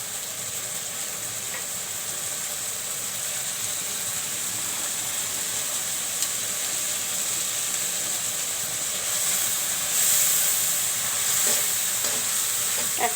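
Shrimp fry in a pan while a taro curry is cooked, giving a steady loud sizzle and hiss that lasts throughout, with a few clinks of stirring near the end and no talk.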